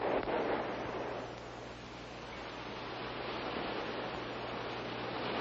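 Surf breaking just off a sandy beach, where the water beyond the breakers is nearly still, heard as a steady, close wash of broadband noise that swells and eases slightly without a clear individual crash.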